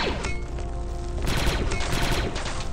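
Dense, rapid gunfire from the Star Wars video game Republic Commando rattles on loud and continuous, a sustained volley of blaster shots with no voices over it.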